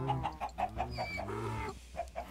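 Chickens in the video game Minecraft cluck in a quick series of about a dozen short, regular calls. They are fairly close and heard alone, with no talk over them.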